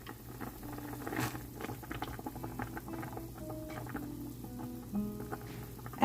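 A pot of broth at a steady boil with beef meatballs, beef rolls and bean sprouts for Vietnamese rice noodles, continuous bubbling and light pattering close by, with no talk.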